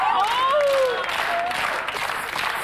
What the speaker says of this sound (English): Give him a slow clap.